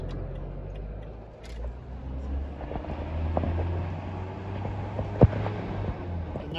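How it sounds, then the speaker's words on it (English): A heavy goods vehicle rounds a blind left bend under a low-hanging tree on a country lane, a steady low engine drone and road rumble with a brief sharp knock near the end. "now we're driving around a blind left bend underneath a low hanging tree"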